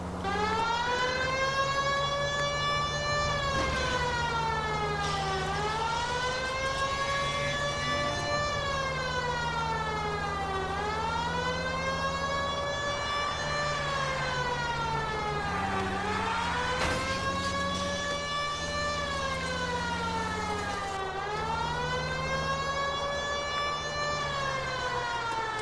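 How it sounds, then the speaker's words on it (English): A police siren wails in long rising and falling cycles in L.A. Noire, steady and continuous over faint engine rumble, with no one speaking. "we got a siren"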